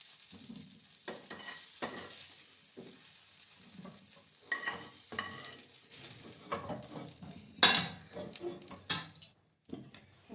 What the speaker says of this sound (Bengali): একটু লাল করে আমি আলুগুলোকে ফ্রাই করে নেব।